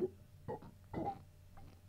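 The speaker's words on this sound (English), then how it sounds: "Trying to stifle a burp." A man tries to hold back a burp but fails, giving two short throaty bursts close to the mic, followed by a softer, quieter tail.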